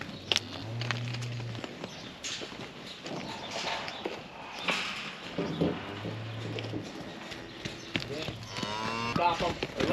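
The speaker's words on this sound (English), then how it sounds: "I think these are all heifers." Cattle heifers on a ranch give several low, drawn-out moos among hoof clatter and footsteps, with other livestock noise around them and brief voices nearby.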